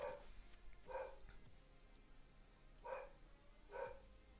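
A dog barks four times at uneven intervals. The barks are fairly faint and sound some distance away, with quiet background in between.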